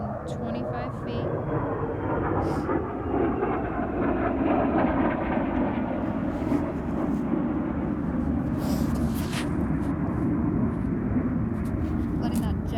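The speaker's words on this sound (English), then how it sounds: "Letting that jet go by, sorry." A jet aircraft passes overhead as a steady, loud broadband roar that fills the scene throughout, with a person talking over it.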